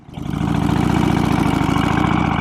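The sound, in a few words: custom Harley-Davidson FXR Knucklehead motorcycle engine running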